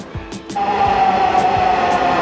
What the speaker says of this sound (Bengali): অলরেডি মেট্রো রেলটি এসে আমাদের সামনে এসে পৌঁছালো উত্তরা উত্তর স্টেশনে এসে মেট্রো রেলটি পৌঁছালো